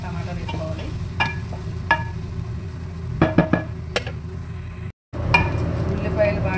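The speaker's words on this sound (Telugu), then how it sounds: "ఉల్లిపాయలు బాగా వేగిపోయాక పచ్చిమిరపకాయలు, టమాటాలు వేసుకోవాలి" Onions, green chillies and tomatoes fry in a pan with a soft, low sizzle, punctuated by several distinct spatula knocks and scrapes and one brief dropout.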